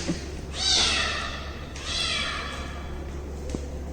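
A kitten cries with two drawn-out, plaintive meows about a second apart, fairly close over a steady low background hum, with a soft thud afterward.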